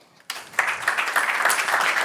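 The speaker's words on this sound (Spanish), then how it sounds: "le vamos a recibir con un fuerte aplauso" After a brief quiet moment, an audience at a business talk bursts into applause to welcome a speaker, the clapping swelling quickly and staying dense and lively to the end.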